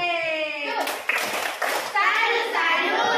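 A group of children claps in rhythm during a classroom salute for another group, several quick clap bursts mixed with young voices chanting and talking throughout.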